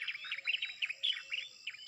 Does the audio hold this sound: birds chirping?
yes